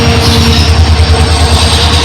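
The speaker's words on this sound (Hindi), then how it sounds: "क्या ट्रैक साउंड आ रहा है भाई।" Train running over railway track, heard from aboard a WDP4-hauled passenger service near Chunar Junction: a loud, continuous rumble with wheel squeal and faint rhythmic clatter, no voices.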